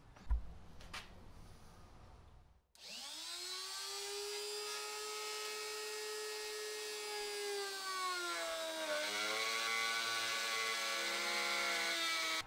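A steady, high-pitched power tool grinds continuously into a wooden cigar box guitar neck, cutting a chamfer, a sustained whine with a slight pitch dip midway, after a brief quiet start.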